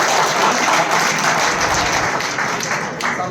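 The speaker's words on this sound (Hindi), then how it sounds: "एक बार जोरदार तालियों से हम" Crowd applause at a BJP district office event during social justice week marking Mahatma Phule's birth anniversary; loud, continuous clapping from many hands that eases slightly toward the end.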